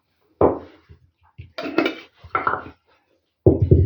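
Several short bursts of a spoon scraping and clinking against a bowl as cherries are stirred with sugar, separated by brief pauses, close and fairly loud.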